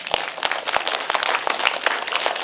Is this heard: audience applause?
yes